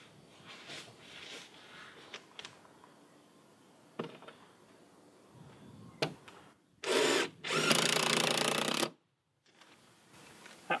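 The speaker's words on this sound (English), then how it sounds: "I'm gonna put a few screws in now" A power drill drives screws into Hardie board fiber-cement siding on a workshop exterior wall, heard as short whirring bursts amid handling knocks, then two loud close runs near the end.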